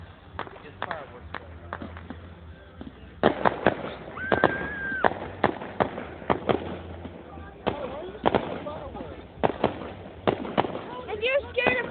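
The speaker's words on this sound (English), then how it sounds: "It's fireworks." Firework show with sharp bangs and crackling bursts arriving in irregular clusters, some close and loud, others softer, mixed with excited voices of children and adults talking and exclaiming throughout.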